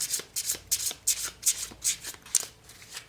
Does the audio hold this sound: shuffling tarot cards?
yes